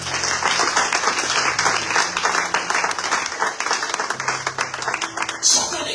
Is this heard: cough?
no